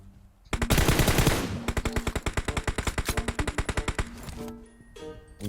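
Loud automatic gunfire in the PUBG Mobile battle royale game, an initial burst followed by a steady, rapid string of evenly spaced shots that cuts off abruptly.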